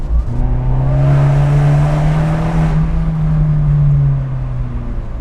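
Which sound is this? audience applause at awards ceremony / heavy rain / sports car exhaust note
sports car exhaust note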